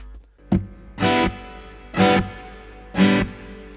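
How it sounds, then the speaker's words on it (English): Four bursts of distorted electric guitar through a Digitech GSP-5 effects processor, each a harsh, buzzy strum ringing briefly before cutting off, separated by short gaps. "It sounds like an electric guitar."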